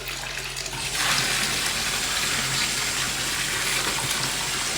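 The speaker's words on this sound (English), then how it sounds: "got some cold water running, so that'll even out the temperature." Cold water gushes steadily from a tap, a close, continuous hiss that swells slightly after a second and keeps running without talk.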